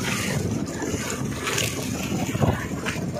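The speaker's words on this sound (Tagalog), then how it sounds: "Malakas ang alon. Malakas na yung habagat." Strong sea waves and monsoon wind batter a small fishing boat, a steady loud wash of water and wind rumble that fills the whole clip with brief surging swells.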